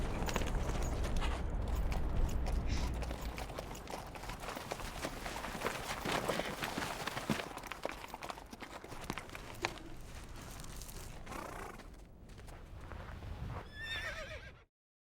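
A horse walking with steady clip-clop hooves and a loud whinny partway through, set in an Afghan village scene, heard alone over a busy outdoor background before cutting off abruptly.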